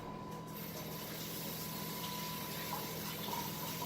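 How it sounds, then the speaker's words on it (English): Tap water runs steadily in a kitchen while hands are washed, a soft continuous hiss and splash under a faint background hum. "Now I'm going to wash my hands real quick"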